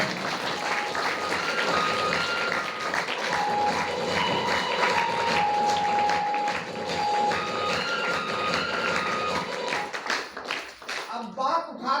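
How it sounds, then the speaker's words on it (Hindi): Audience applause at a DXN business meeting, loud and sustained clapping from a large crowd that fills the room for about ten seconds before thinning out near the end. "तो जोरदार ताली बजाइए"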